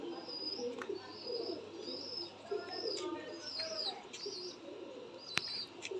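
Pigeons coo softly and repeatedly, with occasional chirps and a brief flutter of wings, against a steady outdoor background.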